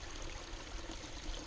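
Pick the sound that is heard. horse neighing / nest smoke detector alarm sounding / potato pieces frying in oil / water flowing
water flowing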